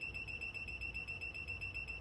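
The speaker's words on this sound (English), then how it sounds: "It starts beeping." Circuit breaker finder gun plugged into a wall outlet, giving a faint, steady, rapid high-pitched beeping tone that pulses evenly throughout with no talk.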